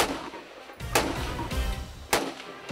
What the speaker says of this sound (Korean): 저 총소리가 실제로 들으면 너무 크잖아요.